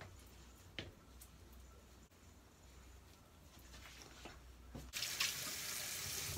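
A bathroom tap runs to wet hair for a school morning, starting as a faint trickle with a few drips and light handling noises, then turning into a louder, steady gush near the end; no talking.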